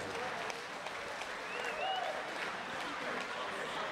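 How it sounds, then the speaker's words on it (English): Crowd applause after a three-round mixed martial arts bout at an LITC event, a steady wash of clapping from a large audience with a faint voice briefly audible within it. "can I get a big round of applause?"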